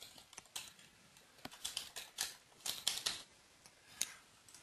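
Typing on a computer keyboard, a short burst of crisp key clicks with uneven spacing and a few louder taps, close by and with no voices.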